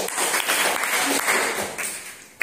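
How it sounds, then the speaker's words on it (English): A class of students claps together in a brief burst of applause that fades out by the end. "Claps కొనండి."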